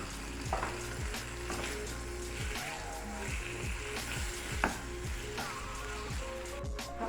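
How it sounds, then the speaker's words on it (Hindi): Minced boneless chicken frying with salt and black pepper, loud close sizzling with a run of rhythmic stirring strokes across the pan, no voices. "इसको अच्छे से मैं फ्राई कर लूँगी"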